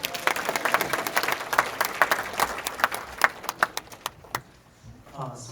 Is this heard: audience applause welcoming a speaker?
yes